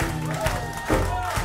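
A club audience at a live concert applauds a singer, a busy mix of clapping, cheers and whoops, with loud music and crowd voices layered throughout.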